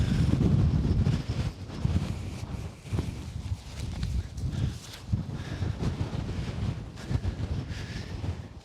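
Strong wind with blowing snow buffets the microphone in continuous rough gusts, a loud low rumble that rises and falls without pause.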